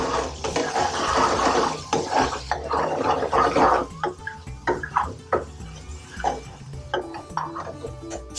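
A spoon stirs thickening vindaloo curry in a metal pan, making repeated clinks and scrapes against the pan with wet, sloppy bubbling, close up and irregular, with no one talking.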